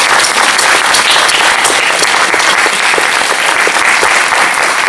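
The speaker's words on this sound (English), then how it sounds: "Big round of applause for Philip and Nora, please." Audience applause fills a convention Q&A panel hall at a sci-fi fan event, a dense, steady wash of many hands clapping loudly and continuously throughout with no talk over it.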